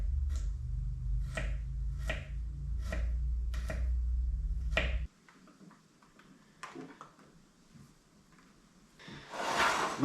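Old, sprouting garlic being chopped small with a knife on a cutting board, six crisp regular chops followed by a few scattered taps and a closing scrape, over a low steady hum at the start.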